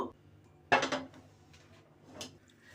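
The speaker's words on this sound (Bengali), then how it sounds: "এবার পাতিল নিচে একটা তাওয়া দিয়ে দিব" A metal lid clanks down onto a pot of pilaf with a sharp ring, then a griddle is set beneath it with a softer metallic clink.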